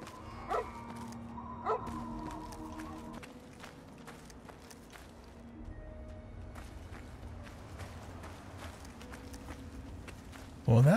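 Barks from the companion dog Dogmeat in the video game Fallout, a couple of sharp yaps early on over game sound, footsteps and combat noise, with a voice speaking over the mix.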